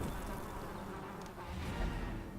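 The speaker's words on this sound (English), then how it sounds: "The maddening whine of multitudinous wings abates." Insect wings whine in a buzzing, droning swarm from the Darkest Dungeon game, steady and fairly close for the whole stretch, with no voices over it.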